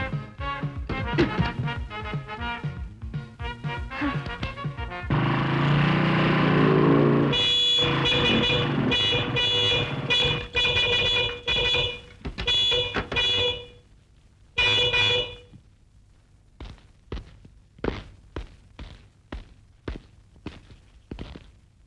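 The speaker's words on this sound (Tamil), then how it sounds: "ஏன் ஹார்ன் இந்த அடி அடிக்கிற?" Repeated vehicle horn honks in short bursts, some long and some brief, over a busy mix of engine rumble and other street noise.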